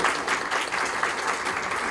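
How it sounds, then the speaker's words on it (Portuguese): An academic audience at a university round table on teacher education policy gives a steady, dense round of applause for a professor, heard at a moderate distance. "Gostaria de pedir uma salva de palmas a ele."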